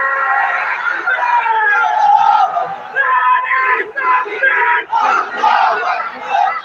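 A large crowd of young men at an Islamic tafsir gathering shouts back in loud unison, several surging roars with brief gaps between them, close and dense.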